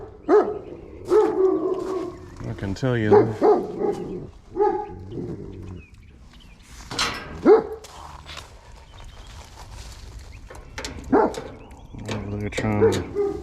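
Dogs bark in repeated loud bursts from behind a door during an HVAC split-system maintenance visit, close by and agitated, with someone speaking briefly between the barks.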